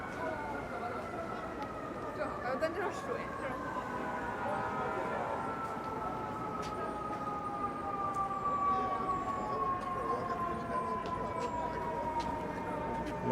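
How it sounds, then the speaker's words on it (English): A fire engine siren wails steadily along a Manhattan street on a Sunday afternoon, its long gliding tone lasting throughout over busy city background noise. "Not sure if this fire engine is coming down this block or not."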